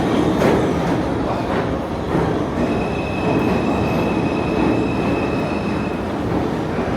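A New York City subway train moves through an underground J line station, its loud, steady rumble filling the space while a thin, high wheel squeal rings out over the roar partway through.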